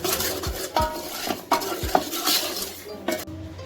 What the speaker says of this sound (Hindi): अब इसमें हम जो है इलायची छोटी वाली वो डाल देंगे, इसको भी साथ भूनेंगे।